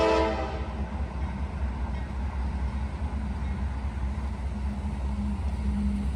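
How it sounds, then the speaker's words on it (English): A heavy coal train with distributed power units approaches a busy railroad crossing at night, opening with a fading horn blast before a steady low rumble of rolling wagons continues at a moderate distance. "And here comes the train."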